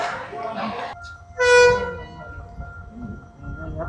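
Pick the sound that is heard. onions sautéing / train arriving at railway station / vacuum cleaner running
train arriving at railway station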